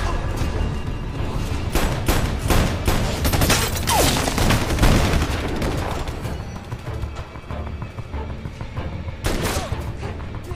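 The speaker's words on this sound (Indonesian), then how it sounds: "Dan terjadilah adu baku tembak antara Sarah dengan mereka." Heavy gunfight from an action film, with dense bursts of rapid gunfire and loud overlapping shots filling the whole stretch, sharp cracks standing out near the start and again toward the end.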